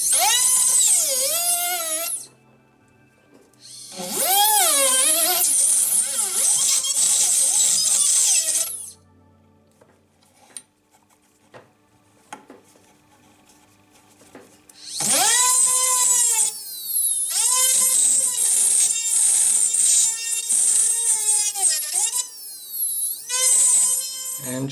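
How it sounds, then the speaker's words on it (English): A rotary tool fitted with a round burr works a coiled jewelry pendant, sending out several loud, high-pitched grinding bursts that rise and fall, with quiet gaps between them, close up. "So now I'll go back to the round burr."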